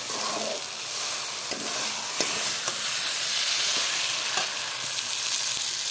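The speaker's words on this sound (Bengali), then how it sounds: "এখন আমি চিকেনটাকে ঢেলে দেবো।" Chicken poured into a pan of fried spices, with a steady loud sizzle and faint stirring clicks.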